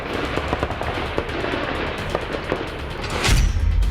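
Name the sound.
gunfire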